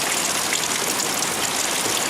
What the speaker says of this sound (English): There, you can see the rain right there,